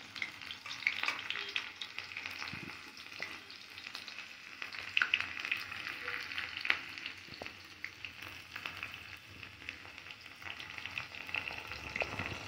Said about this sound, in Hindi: ये देखिए अभी हम लहसुन और अदरक डालें,